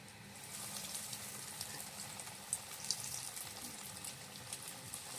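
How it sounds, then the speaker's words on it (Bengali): Sandwich pieces lowered into hot oil fry with a faint, even hiss and scattered small pops, close but quiet and continuous. "তেল গরম হয়ে গেছে, আমি এখন তেলে ছেড়ে দেবো।"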